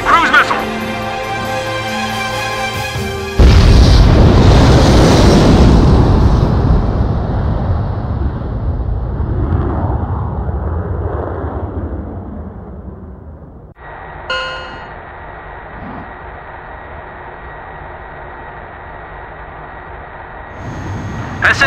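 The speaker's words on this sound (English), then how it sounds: "Mass driver hit by cruise missile." A cruise missile strikes the mass driver in the Ace Combat 5 video game, a loud broadband blast that swells and slowly rumbles away, set between game music and chimes, with radio chatter heard afterwards.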